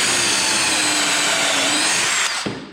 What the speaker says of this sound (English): You just drill in until the collar on the bit bottoms out on the jig block